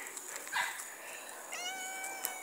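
A cat meows softly a couple of times, fairly close, over a quiet hiss with no talking.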